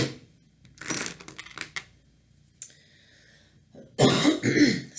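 A person clears their throat in a few rough bursts, mixed with clinking and rattling handling sounds. Louder shuffling noises follow near the end, and no words are spoken.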